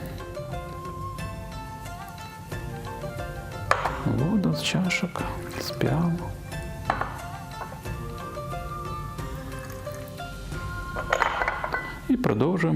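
Warming water is poured off during a Chinese tea ceremony, with trickling liquid and small clinks of glass and ceramic teaware, heard close under a person talking throughout.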